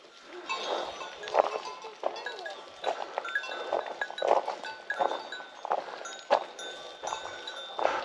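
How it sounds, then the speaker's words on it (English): Goats bleat and call intermittently throughout on a mountain hiking trail near the summit of Mount Ainos in Kefalonia, with faint clinking like bells among them, several animals at close to moderate distance, no talk. "Goats. Loads of goats."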